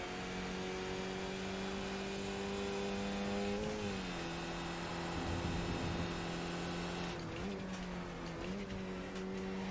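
A race car engine in the iRacing sim drones at full throttle, a steady high whine holding pitch with brief dips and shifts around gear changes, continuous and fairly faint, no voices.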